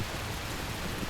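Heavy rain pours steadily in a dense, even hiss, faint and continuous for a moment.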